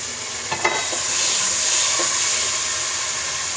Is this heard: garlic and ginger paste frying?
yes